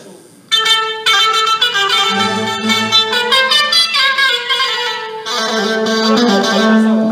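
Electronic keyboard organ played during a sound check at a concert rehearsal at the Lakeshore Convention Centre; sustained chords and melodic runs start suddenly and continue clearly throughout.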